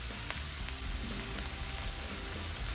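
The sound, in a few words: stir-frying jicama and carrots with garlic and dried shrimp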